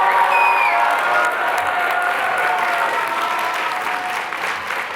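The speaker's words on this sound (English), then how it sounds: "Let's applaud." An audience at a Columbia University commencement ceremony breaks into loud, sustained applause, with some faint cheering mixed in, gradually easing off toward the end.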